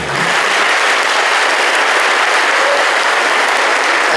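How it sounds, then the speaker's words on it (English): A crowd at a Baldwinsville Athletic Hall of Fame ceremony breaks into loud, sustained applause for an inductee, a dense even roar of clapping throughout. "give Christine a big round of applause"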